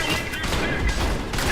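Gunfire in a shooter video game, a dense continuous volley of shots running throughout, loud and close with game noise.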